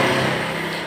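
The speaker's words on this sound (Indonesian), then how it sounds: "kalau kita putar rodanya itu bunyi ngerosok" A continuous rough grinding, scraping noise from a scooter's faulty CVT as the wheel is turned, loud and close, with no pauses.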